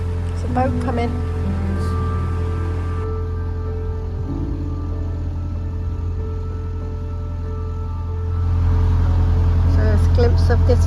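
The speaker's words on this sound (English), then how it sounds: "There's a boat coming." A narrowboat engine on the Shropshire Union Canal hums low and steady, swelling louder toward the end as it draws near, with water and background ambience around it.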